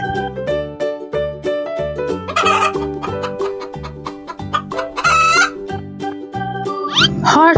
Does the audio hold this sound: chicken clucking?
yes